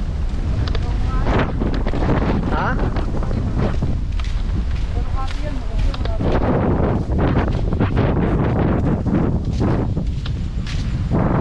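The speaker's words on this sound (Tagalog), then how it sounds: "Lakas po ng hangin." Strong sea wind buffets the microphone nonstop during a night lamp-fishing trip by boat, a loud, steady roar with gusty swells, while voices talk briefly over it.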